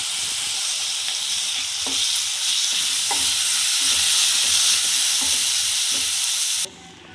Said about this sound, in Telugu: ఒక టేబుల్ స్పూన్ అల్లం వెల్లుల్లి పేస్ట్ వేసుకోవాలి. పచ్చివాసన పోయేంత వరకు వేయించుకోవాలి.